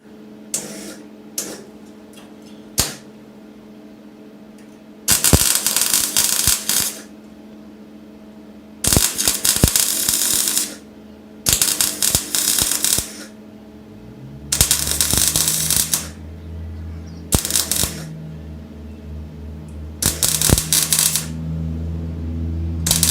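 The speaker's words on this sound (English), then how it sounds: "I'm going to have a go at doing some welding with this" Bursts of MIG welding on thin sheet-metal panels of a Mk2 Ford Escort RS 2000, crackling and buzzing in several separate runs of a few seconds each, with quieter pauses and a low hum between them.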